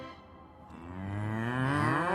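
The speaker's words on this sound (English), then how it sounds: "Yes, a herd of cows." A herd of cows lets out a long, low, rising moo, close and fairly loud, with other lowing layered in as it swells, set at a railway station on the island of Sodor.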